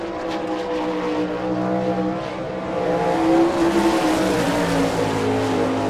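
A sprint car on a Maxim chassis with a Gertie engine runs a qualifying lap at an All Star Circuit of Champions race in Rossburg, Ohio. Its engine roars loud and steady throughout, rising and falling in pitch, with no talk.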